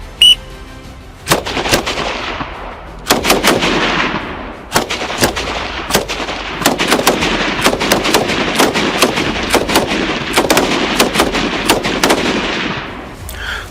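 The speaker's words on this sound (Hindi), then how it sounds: "सामने टारगेट, सिंगल शॉट, फायर।" Rifle shots crack out on an army firing range, loud sharp reports repeating in rapid irregular succession over about thirteen seconds, with no talk.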